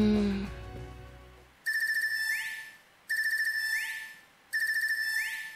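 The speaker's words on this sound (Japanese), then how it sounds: "アークス2の着信音" The ARCUS 2 communicator in Trails of Cold Steel III gives its ringtone, three identical bright electronic trilling bursts evenly spaced with short gaps between them. Game voices and music play before the ringing starts.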